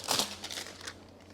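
Packaging being unwrapped from an exhaust downpipe, a brief faint burst of crinkling and crumpling with a few softer rustles trailing off.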